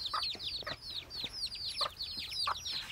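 Young chicks in an expanded scratch-space enclosure make a steady stream of high, upward-sweeping peeps and soft chirps, several birds overlapping close by with a few lower clucks mixed in.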